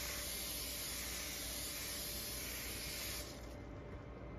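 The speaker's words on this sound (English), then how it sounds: "And now you put your cooking spray on your pan." Cooking spray hisses steadily onto a baking pan for brownies, one continuous close spray lasting several seconds before easing off slightly near the end, with no talking.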